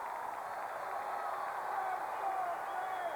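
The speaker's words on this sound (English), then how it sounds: "Listen to the crowd now." A hockey arena crowd at a 1999 Penguins–Capitals game roars steadily after the Penguins tie the score, a sustained wash of noise heard beneath a commentator's voice.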